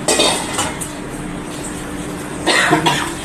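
A person with a cold coughs in a home kitchen: one harsh bout at the start and another near the end, with faint clatter of dishes between.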